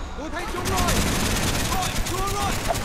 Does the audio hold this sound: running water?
no